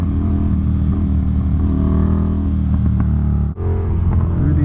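An Indian FTR1200 motorcycle on 17-inch sportbike tires accelerates through chicanes, its engine a loud steady growling drone with rising revs, briefly cut by a sudden throttle lift before pulling again.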